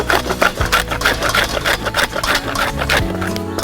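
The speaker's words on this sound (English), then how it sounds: "I'm grating the coconut" Coconut being grated by hand on an old grater handed down from a grandmother, while making lapshi: rapid, evenly spaced scraping strokes repeat close by over a steady low hum.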